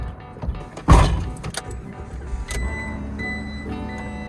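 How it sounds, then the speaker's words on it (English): A car driving along a road toward Central Oregon, heard from inside as a steady low engine and road rumble, with a brief louder thump and a few light clicks near the start. "We're driving to Oregon."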